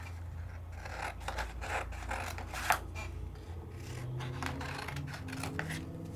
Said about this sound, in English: I'm just gonna cut me a snip of this out